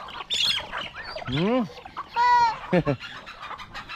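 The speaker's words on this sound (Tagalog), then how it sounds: "Yung mga chicken na dami. Dami ng chicken ng anak oh." Native chickens cluck on a farm, with several hens calling close by in short overlapping bursts and one longer rising call, while a person talks over them.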